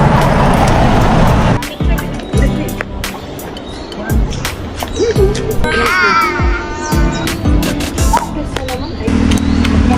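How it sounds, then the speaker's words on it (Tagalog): Several motor vehicles pass one after another along a road beside a man-made forest in La Union, each a loud rumbling swell, with people talking nearby between the passes. "dami sasakyan na dumadaan"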